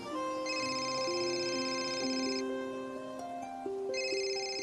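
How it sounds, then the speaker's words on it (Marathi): A phone rings with a melodic electronic ringtone, a steady sequence of bright repeating tones with a faint tick beneath, loud and uninterrupted with no talking. "फोन आलाय घे ना मग"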